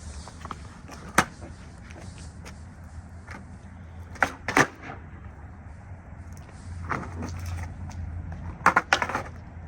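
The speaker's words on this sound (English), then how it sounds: "That kickflip felt really good" Skateboard kickflip on a wider, heavier 8.25 board: sharp wooden pops and clacks, with a pair of loud hits near the start, another cluster in the middle and a final double smack at the end of the roll.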